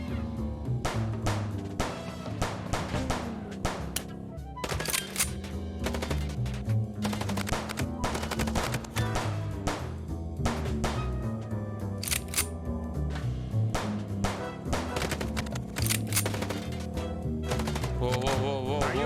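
Gunfire rings out during a car chase in the video game Chicken Police, with rapid bursts and single sharp shots repeating throughout over a continuous musical score, close and loud.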